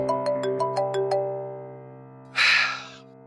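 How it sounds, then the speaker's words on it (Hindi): A phone's electronic ringtone chimes in a quick repeating melodic pattern, then stops, followed by a short loud rustling burst. "और देख लो पप्पो का फोन आ रहा है।"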